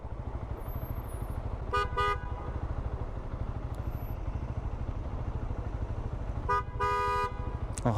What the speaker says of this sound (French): Arrête de klaxonner, c'est bon.